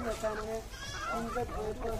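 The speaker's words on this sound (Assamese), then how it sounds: "এই সব আমাৰ স্থানীয় ছাগলী" Local goats bleat at a goat farm: several short, wavering, nasal cries follow one another at close range over a quiet background.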